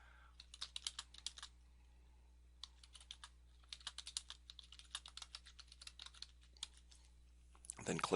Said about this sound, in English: type in your site name, and then type in a description